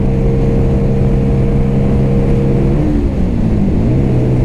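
CMC Buccaneer motorcycle engine pulling in fifth gear near 6,000 RPM with strong vibration: a loud, close, steady droning hum whose pitch dips briefly near the end, then settles again. No talking.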